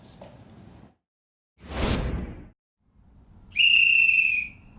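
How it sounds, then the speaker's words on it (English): A single bright, sustained whistle blast sounds clearly near the end, after a brief whoosh and low background rumble; a straightforward warning-style whistle blown once. "What's a whistle got to do with impeachment hearings?"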